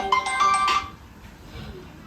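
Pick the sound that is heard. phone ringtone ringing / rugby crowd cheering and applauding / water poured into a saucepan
phone ringtone ringing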